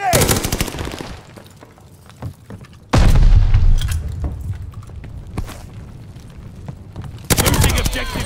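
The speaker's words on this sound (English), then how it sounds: "Grenade." In Call of Duty: Vanguard, a grenade goes off with a loud boom, then rapid gunfire bursts follow and a second heavy blast lands near the end, with scattered shots and faint game voices between them.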